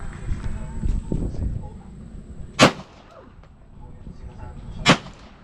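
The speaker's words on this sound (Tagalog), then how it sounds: "Okay, firing." Two loud, sharp rifle shots crack out a couple of seconds apart at an outdoor firing range, each one a hard isolated bang, with people murmuring and talking quietly in the background between them.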